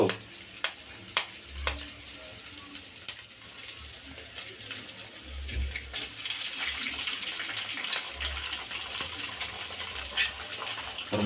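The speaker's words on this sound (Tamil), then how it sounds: "ரெண்டு முட்டையும் உடச்சி ஊற்றியாச்சு" Two eggs cracked into a little hot oil in a pan while cooking catfish puttu give a few sharp taps, then a steady close sizzle and hiss, with no talking.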